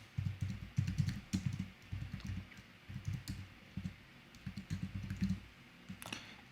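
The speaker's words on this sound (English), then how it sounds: "So really quickly going to type that in." Quiet typing on a computer keyboard while signing up for an online account, with irregular bursts of soft clicking keystrokes and short pauses between them.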